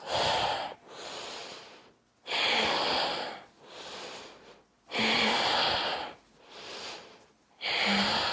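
Slow, deep breaths during a calming breathing exercise for panic, loud airy exhales alternating with softer inhales in a steady rhythm, close to the listener with no talking.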